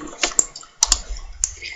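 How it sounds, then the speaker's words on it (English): Keystrokes on a computer keyboard while entering a name in Photoshop, a few quick clicks in small bursts with brief pauses, close and moderately loud, with a low background hum. "I'm typing my name."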